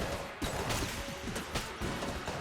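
Dense burst of explosions and chaotic gunfire from the video game Enter the Gungeon, a continuous loud wash of crashing blasts with sharp repeated impacts and no pause.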